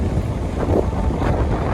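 Steady wind gusting across the microphone, a heavy low rumble with no pauses throughout.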